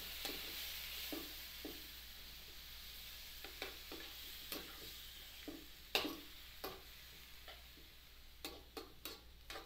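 A spoon stirs a simmering dish with soy sauce in a pot, giving faint, scattered scraping clicks and soft sizzle over a low steady hum, with louder scrapes bunched toward the end and no talking.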